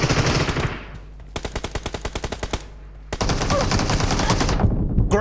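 Gunfire in the PUBG Mobile game during a grand final match: a loud sustained burst, then a rapid, evenly spaced string of about a dozen shots, then another dense roaring burst.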